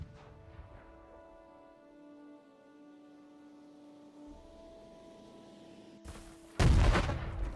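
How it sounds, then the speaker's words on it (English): In the video game Battle Cry of Freedom, a 24-pound mortar fires: a quiet, humming stretch gives way to two abrupt, heavy booms close together at the end. "So first up we have the 24-pound mortar"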